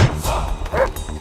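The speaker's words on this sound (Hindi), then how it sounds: "ये उनका पालतू कुत्ता है सर।" A pet dog gives a couple of short, close barks amid some background noise and rustling.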